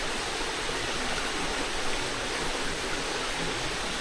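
Flowing stream water at night outdoors makes a continuous, dense rushing hiss, steady and fairly loud with no other sounds.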